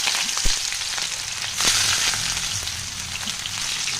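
Potatoes and onions fry together in hot oil in a wok, giving a steady, close sizzle with a few sharp pops and a brief surge of crackling as the food shifts.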